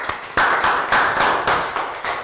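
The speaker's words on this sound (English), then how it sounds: "Can we have a round of applause?" A primary classroom gives a short round of applause after a social studies lesson, with a few distinct, sharp claps in uneven bursts, close by and without talk.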